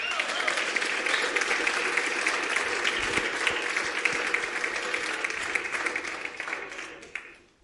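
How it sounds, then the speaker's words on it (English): Steady audience applause for a person on stage during a community comments podcast episode, a dense even wash of clapping lasting about seven seconds before tapering off at the end. "we should applaud the troll"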